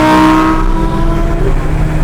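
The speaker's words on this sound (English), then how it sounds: "This car is running right now." A sports car engine, either a McLaren 600LT or a Lamborghini Huracán Performante, runs close by with a loud, steady tone that rises and falls slightly, with no talking over it.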